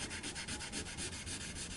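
Sandpaper rubs back and forth on the wooden body of a Japanese-made Squier JV Stratocaster, fast, even rasping strokes repeating close up, with no talking.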